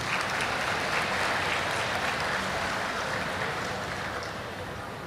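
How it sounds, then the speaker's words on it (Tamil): Steady, dense audience applause fills a graduation ceremony hall, loud and continuous throughout, tapering slightly toward the end. "இதுக்கு ஒரு நல்ல கைதட்டு நான் எக்ஸ்பெக்ட் பண்ணுறேன் உங்கள்கிட்ட இருந்து"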